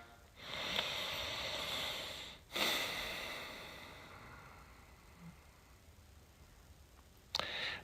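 Slow, deep breaths taken during a guided meditation and prayer, a long drawn inhale, a sharp breathy exhale, then a quieter fading breath and a final soft puff, close and alone.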